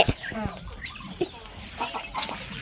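A chicken clucks in short bursts close by, with some rustling and scattered background noise.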